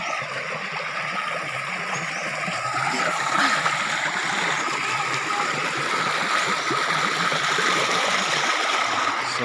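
Water from a waterfall stream rushes and splashes continuously, a loud, close, steady broadband roar with small gurgles and no break.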